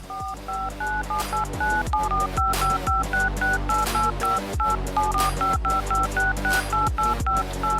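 Telephone keypad tones beep in rapid groups of two-pitch DTMF pulses, a series of dialed numbers repeating across several seconds, clear and close with no voices.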